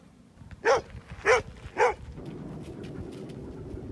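Dogs bark around a Slab City camp, three distinct barks in quick succession at moderate distance, then a low rumbling background continues.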